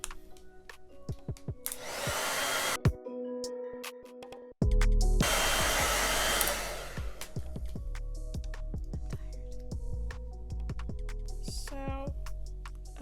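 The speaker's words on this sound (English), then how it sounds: "I am over blow drying it" Hair dryer blowing on curly locs set on perm rods, roaring in two long bursts with a short pause between, then cutting to a quieter whir, with clicks and handling noises around it.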